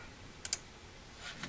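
Two quick keystrokes on a computer keyboard while entering a search term, followed by a couple of fainter clicks, faint and close in a quiet room.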